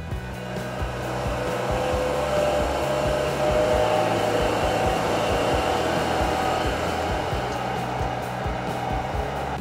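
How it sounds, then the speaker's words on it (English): A Wood-Mizer MP260 four-sided planer/moulder runs with a steady loud mechanical whir as power feed rollers carry a board through, the sound swelling slightly as the cutters engage. "The feed rollers press down on the board and move it through the machine."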